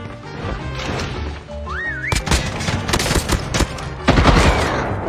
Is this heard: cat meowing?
no